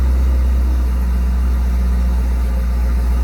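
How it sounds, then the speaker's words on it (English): A 2004 Chevrolet Corvette coupe with a Corsa exhaust idles steadily up close, a deep, throaty low rumble that holds even throughout with no talking. "did have that Corsa exhaust, and we're going to fire it up, be able to hear it"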